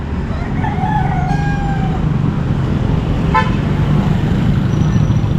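A bantam rooster crows once at an outdoor pet and animal market in Baliwag, a short call rising above steady crowd and traffic noise, with another faint crow further off.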